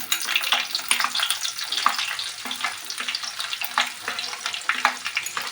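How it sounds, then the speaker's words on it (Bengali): Chopped onion frying in a pan, a bright crackling sizzle broken by repeated stirring scrapes, loud and close, with no voices. "দিয়ে বন্ধুরা পেঁয়াজ কুচিটাকে একটু রেড করে ফ্রাই করবো"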